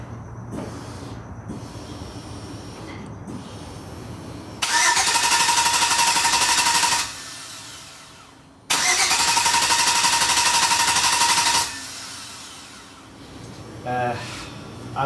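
The engine of a 1955 Ford truck, sitting unused for 28 years, cranks loud and close in two long bursts of several seconds each without catching, with a short pause between them and quieter sounds around them.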